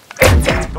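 A bomb is planted in Call of Duty: Modern Warfare, heard as a single short, close, heavy thud with a brief dull resonance.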